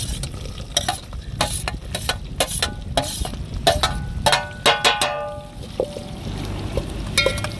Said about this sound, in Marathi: तेजपत्ता, कांदा टाकून घेऊ.